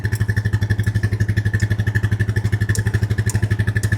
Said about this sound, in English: I put it in reverse, and I'm just gonna run this file over this mushroomed out end